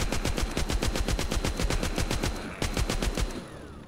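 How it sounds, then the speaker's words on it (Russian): A minigun in the mobile game The Walking Zombie 2 fires on a horde of zombies in loud, rapid, evenly spaced bursts, one continuous stream of shots with a brief stutter near the end. "Тут миниган у нас. О, возьмите пулемет."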